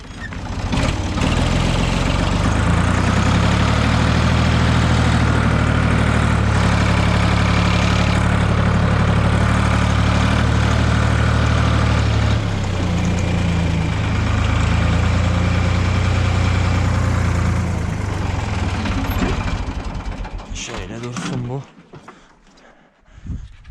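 A Ford 3000 tractor engine idles loud and close in a field while stones are cleared, a steady low diesel rumble that continues for about twenty seconds before dropping off, with people talking over it.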